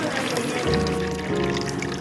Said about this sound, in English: That is water dispenser.